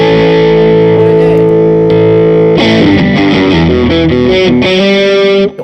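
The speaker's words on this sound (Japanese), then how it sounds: "歪みの前にファズを入れてファズのこのブーストっていうかのプッシュ役で入れてる" Electric guitar through a fuzz pedal boosting a distortion pedal, played on a Gibson SG with P90 pickups: a long sustained distorted chord rings out, then a loud, busy run of gritty, saturated notes and chords.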